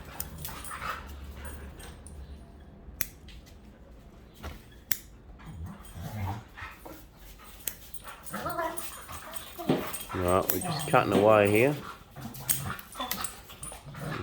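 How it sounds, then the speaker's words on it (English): Dogs play near a bonsai workbench, whimpering, yipping and giving short barks in scattered bursts, with someone talking briefly over them. "Hope most of you out there are dog lovers and can understand these dogs playing around."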